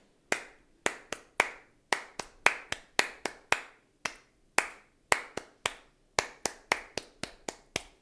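A single person claps a steady beat in a body percussion exercise. The claps are crisp, close and isolated, with short pauses between groups and no talk.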